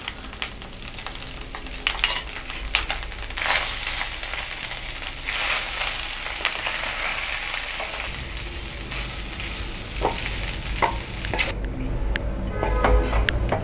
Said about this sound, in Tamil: இப்போ நம்ம எள்ளு வந்து நம்ம அரைச்சி வச்சுருக்கோம். இந்த பொடியும் நம்ம மிக்ஸ் பண்ணிக்கலாம்.